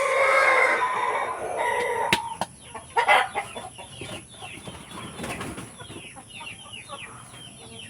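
Free-range chickens and roosters outdoors cluck and squawk in a busy flock, with a burst of wing flapping early on and overlapping calls throughout.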